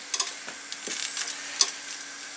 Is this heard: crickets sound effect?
no